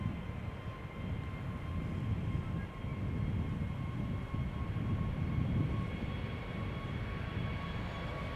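A Delta Airbus A350-900 in "Team USA" livery departs, its jet engines producing a steady, loud, broadband roar that holds evenly throughout with no talk.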